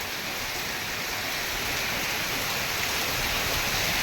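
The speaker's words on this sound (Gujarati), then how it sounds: "વરસાદ ચાલુ થયો છે" Heavy rain pours down over waterlogged farm fields in a continuous, dense hiss, loud and even throughout with no voices.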